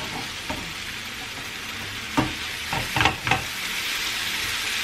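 Salami slices sizzle steadily in a frying pan, a continuous close hiss broken by a few brief clattering stirs and scrapes toward the middle, with no voices.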